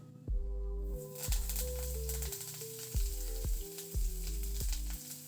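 Taro leaves dropped into hot oil with crackling mustard seeds, dried chili and curry leaves, giving a loud, close, steady sizzle broken by several heavier bursts and clatters as they land and are moved, with no talking.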